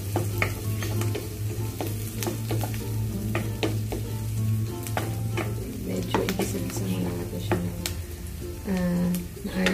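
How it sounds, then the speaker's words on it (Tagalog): Garlic sizzling steadily in a pan for spaghetti sauce, with utensil scrapes and taps on the pan throughout, close and fairly loud. "So yan, nilagay ko na yung ating bawang."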